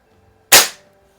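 A single sharp crack from a Sheridan Blue Streak .20 caliber pump air rifle charged with five pumps, loud and close, with a quick decay into quiet.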